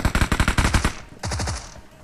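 Rapid automatic gunfire in the PUBG Mobile battle game, a burst of about eight sharp, loud shots in quick rhythm, then a brief pause and a second shorter volley of several shots, close by and unaccompanied by talk.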